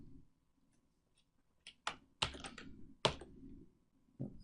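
A computer keyboard as a formula is typed into a Google Sheets spreadsheet: a few separate clicks and short key bursts close by, with quiet gaps between them and no talking.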